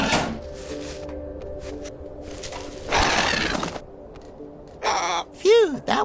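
A crow caws in The Inner World point-and-click game, a few harsh bursts standing out among noisy game effects and a shattering crash, with game speech in between.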